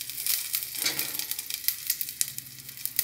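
Green chilies fry in hot oil, giving a close, busy crackle and sizzle with sharp spitting pops scattered throughout. No one speaks.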